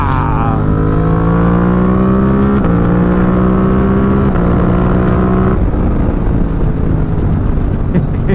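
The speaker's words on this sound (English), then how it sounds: "that exhaust sound, it does not disappoint" A 2024 Suzuki GSX-8R motorcycle engine and exhaust rev loudly and close, the throaty note stepping up through several climbing pitches with no talk over it.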